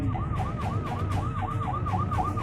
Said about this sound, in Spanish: viene una ambulancia